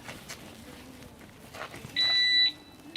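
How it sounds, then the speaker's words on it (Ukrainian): A brief high electronic warning beep from a Weison DX 26 motorcycle alarm lock sounds once, loud against faint background noise, preceded by quiet shuffling and light knocks. "ще сигнал попереджувальний"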